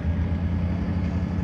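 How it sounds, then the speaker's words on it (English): A German Deutz tractor idles at a tractor show, its steady low diesel rumble running close and even for the whole moment with no other sounds. "It's not a Deutz Allis, but a actual German Deutz tractor."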